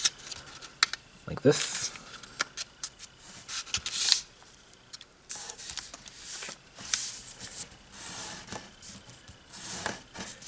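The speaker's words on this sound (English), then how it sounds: "now take this edge and fold it to these 2 edges" Paper being creased and folded into an origami heart, with soft scattered rustles and crisp crinkles sitting under quiet talk.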